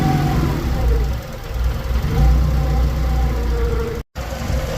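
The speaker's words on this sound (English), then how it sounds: "Well, she's idling where she should be" A Honda Civic being readied for the track idles with a steady low rumble close by, holding even apart from one sudden brief dropout near the end.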